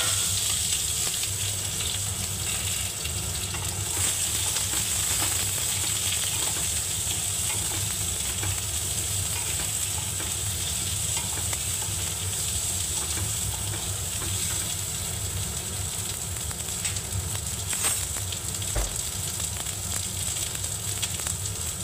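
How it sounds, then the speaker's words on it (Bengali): Small potatoes frying in a pan give a steady, even sizzle with a soft hiss. The sound runs unbroken and fairly close throughout, with no voices over it. "প্রথমে আমি আলুগুলোকে একটু ভেজে নেবো"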